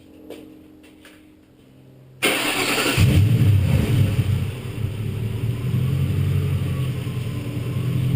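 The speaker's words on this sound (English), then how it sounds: "let's fire it up. Let's see if it stays running" An overheating car engine cranks and catches abruptly, then settles into a steady, rumbling idle close by.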